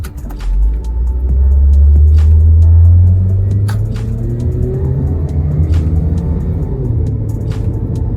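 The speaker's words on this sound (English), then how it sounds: "let's see how this car performs in a 0 to 60 test" A Toyota Corolla's engine revs hard and accelerates from 0 to 60, its low roar climbing through several gear changes before settling into a steady, fast cruising drone.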